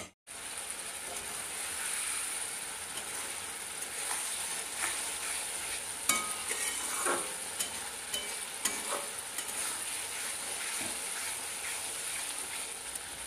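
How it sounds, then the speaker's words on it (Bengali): Mustard paste with chili powder sautés in a pan, giving a steady soft sizzle with scattered scraping and stirring clicks, fairly quiet and with no voices. "এবার অল্প একটু কষিয়ে নেব, মিনিট 2-3 কষিয়ে নেব"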